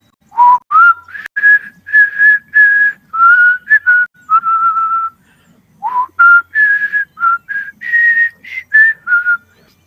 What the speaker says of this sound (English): And he's gonna start whistling.